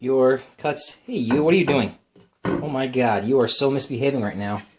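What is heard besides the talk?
None of the usual background noises is heard.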